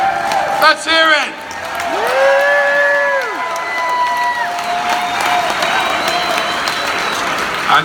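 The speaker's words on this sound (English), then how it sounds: "let's have a round of applause for the greatest documentary you've ever seen in your life at a memorial service" Applause and cheering from a crowd at a memorial service, with whoops and rising vocal calls over the clapping and voices mixed in throughout.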